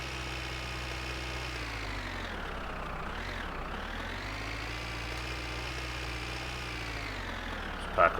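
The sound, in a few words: car engine running in the video game My Winter Car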